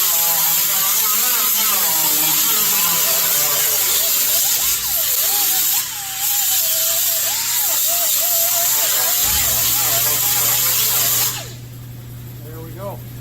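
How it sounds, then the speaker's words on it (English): Angle grinder disc smoothing welds on a 1965 Chevy C10 pillar panel, a loud continuous high whine that bends in pitch as it bites and eases, close, with someone talking over it before it spins down. "Then I'll flatten out my disc here"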